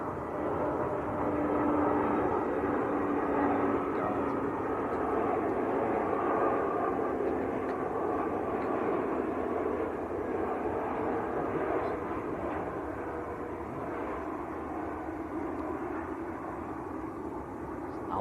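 British Airways airliner on short final approach at Manchester Airport, a steady broad jet engine roar heard from a moderate distance and holding level throughout.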